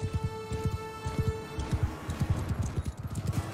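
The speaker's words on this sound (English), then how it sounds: "Horse archers moving!" Horse hooves pound in a rapid, rhythmic clip-clop as mounted archers ride in the Mount & Blade II: Bannerlord battle, close and steady, with a sustained tone fading out partway through.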